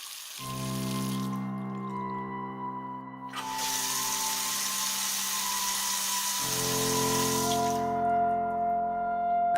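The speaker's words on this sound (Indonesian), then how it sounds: "keran kamar mandi tiba-tiba menyala" A bathroom tap in a villa turns on suddenly and water gushes steadily into the basin, loud and close, with humming pipe tones that shift partway through. No voices are heard.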